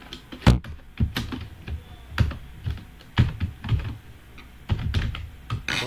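A computer keyboard is typed on in irregular bursts of crisp clicks while a password is entered, near and moderately loud, with no talk.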